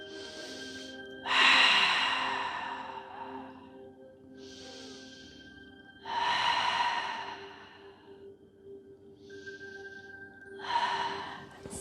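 Slow, deep breaths during a yoga session for menopause strength and flexibility: three long airy exhalations with softer inhales between, close and unhurried, over a faint steady background hum.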